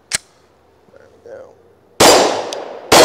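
A Glock 20 pistol fires loud, sharp shots, one early crack followed after a pause by two more close reports with ringing tails, with faint soft voice-like sounds in between.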